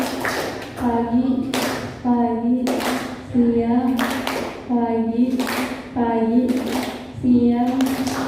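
A classroom audience performs a rhythmic clap chant, sharp group claps landing in repeated bursts of two or three, interleaved with loud chanted calls between them.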